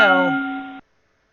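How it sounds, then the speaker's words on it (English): A single boxing round bell from the Title Bout 2 video game rings once, loud and close, with a bright sustained tone that cuts off sharply after under a second. "There's the bell. That was a close round."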